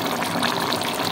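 Water poured into a simmering pot of mixed winter vegetable curry with cauliflower stalks, giving a brief, close, steady rushing pour with no voices.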